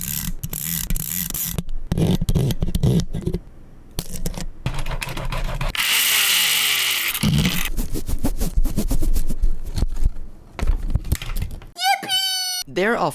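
Someone scratches directly on a microphone in a fast uptempo rhythm, producing loud, close scraping and thumping bursts with a sustained noisy rub in the middle and a brief sweeping tone near the end.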